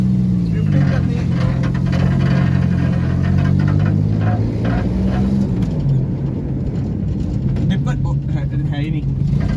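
A Suzuki Khyber car engine drones steadily and close, with pitch shifts suggesting revving while drifting, and people talking over it throughout.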